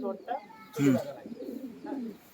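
Pigeons coo in short, low, throaty bursts close by, mixed with a person talking intermittently.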